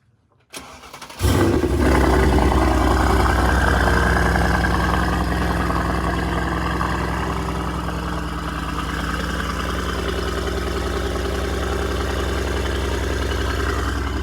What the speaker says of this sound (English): let's get these things warmed up and then give you a few revs